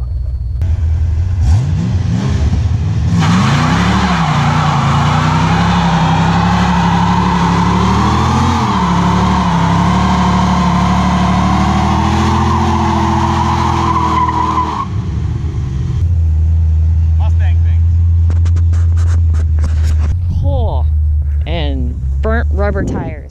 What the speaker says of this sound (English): bit to a burnout.